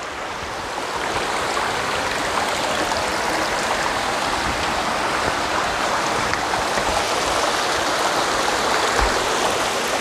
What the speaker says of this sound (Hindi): ये पानी का झरना आप इधर से देख सकते हो, पहाड़ों का पूरा पहाड़ों का पानी है